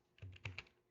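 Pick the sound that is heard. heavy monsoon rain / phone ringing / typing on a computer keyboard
typing on a computer keyboard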